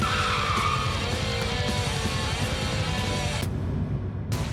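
A car peels away with tires squealing and skidding in a loud, continuous screech on a city street, ending abruptly.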